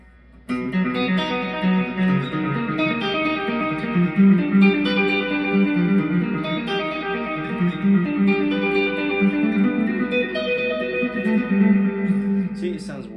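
An electric guitar plays sustained notes and chords through a delay effect, the repeats trailing and blending into a washy, echoing tail.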